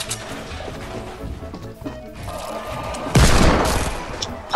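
Fortnite gunfire bursts in a chaotic battle, a dense loud volley striking around the three-second mark over clattering game noise, with no talking.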